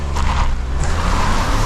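Three-cylinder engine of a 2024 Buick Envista Sport Touring pulling away from a stop, a steady buzzy drone heard from inside the cabin, with no talk.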